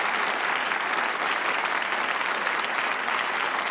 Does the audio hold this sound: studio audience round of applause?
yes